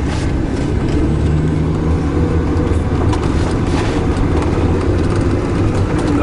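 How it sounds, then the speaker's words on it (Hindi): Steady, loud rumble of a car driving through a city street with light traffic, heard from inside the cabin as a continuous low engine and road drone without talking. "ये मैं चला रहा हूँ गाड़ी।"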